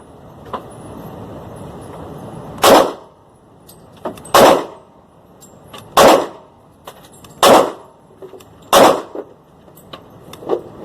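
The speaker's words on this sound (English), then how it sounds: "So we're going to shoot 3 rounds of the 40, SDVE 40" A pistol fires .40 S&W rounds at a range: five sharp, loud shots spaced about one and a half seconds apart, each with a short ringing tail over a quiet background.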